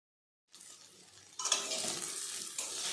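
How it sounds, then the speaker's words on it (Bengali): Turmeric powder is stirred into boiled potatoes in a pan, with a steady frying hiss that jumps louder after a second of quiet scraping; close, soft overall, no talking. "তাই আমি এর মধ্যে একটু কিছুটা পরিমাণ হলুদ গুঁড়ো মিশিয়ে নিচ্ছি।"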